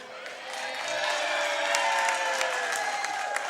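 An audience at a dance hall-of-fame induction ceremony applauds steadily, with scattered cheers and whoops rising above the clapping throughout.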